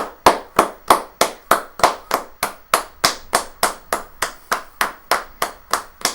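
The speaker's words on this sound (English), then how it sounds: "Everyone giving him a big round of applause." A few people clapping steadily for a departing Manchester City football player at a Premier League match played without fans, about three claps per second, sharp and close, with no talk over them.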